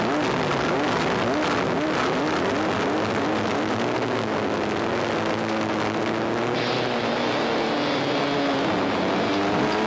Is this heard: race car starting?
yes